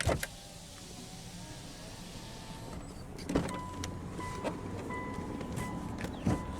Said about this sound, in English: roll down the driver's window